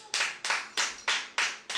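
Church congregation applauding the Lord in rhythmic unison claps, about six evenly spaced sharp claps, fairly close and alone.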